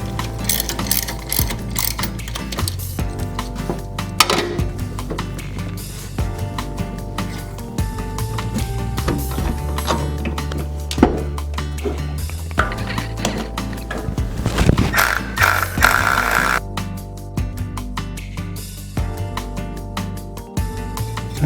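Ratchet wrench clicking steadily while bolts are tightened during serpentine belt installation on a rebuilt engine, repeated bursts of close mechanical ratcheting with background hum and no talking.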